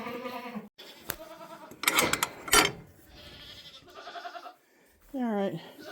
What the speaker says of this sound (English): I still have the other goats outside.